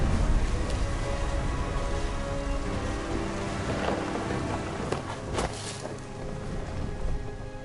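Steady rain patters on a surface inside a narrative video game, with low rumbles of thunder rolling in the background and a few sharper cracks standing out, sustained and moderately loud throughout, with no talking.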